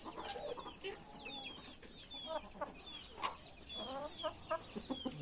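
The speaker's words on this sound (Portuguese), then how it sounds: "Aí tá o galo." Hens and a rooster cluck close by in a farmyard, with busy overlapping clucks and short calls throughout and no talking.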